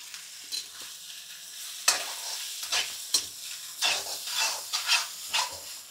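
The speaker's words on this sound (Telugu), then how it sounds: "ఇది ఒకసారి గట్టిగా వేపుకుందాం," Egg fried rice sizzles in a hot pan while it is stirred and tossed, with bursts of scraping and crackling at an irregular rhythm, close and fairly quiet.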